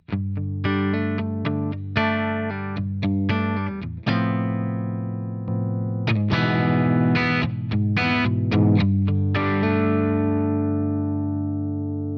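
A clean electric guitar plays a run of plucked single notes and chords with crisp attacks, ringing sustain and a long fading tail, no voices.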